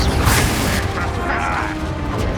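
A Confringo fire spell bursts in Hogwarts Legacy, a loud close explosive boom with crackling mechanical rumble that fades over a couple of seconds, with a voice briefly heard over it.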